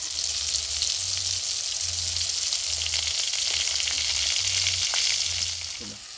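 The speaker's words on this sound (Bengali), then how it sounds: "মাখিয়ে পটলটা একটা একটা করে ভেজে নেব" Pointed gourd (potol) slices coated in turmeric and salt sizzle steadily in hot oil, a loud, continuous frying hiss with a faint low hum pulsing underneath, close by and with no talking.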